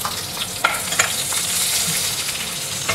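Long slices of onion fry in oil until golden, with a steady close sizzle and occasional stirring clinks and scrapes against the pan throughout.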